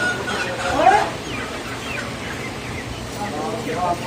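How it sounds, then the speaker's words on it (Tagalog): Live native chickens cluck and squawk close by at a poultry market in Balad, Jeddah, a scattered chorus of poultry with a person speaking in the background. "live chicken"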